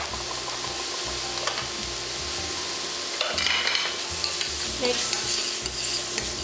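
Onions sautéing in a pan for orzo and peas, a close sizzling hiss with repeated scraping stirs and clatter, one short spoken word at the start.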